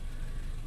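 Renault Clio engine running with a strange noise, a steady dense mechanical drone heard close up for a brief moment, with no talk.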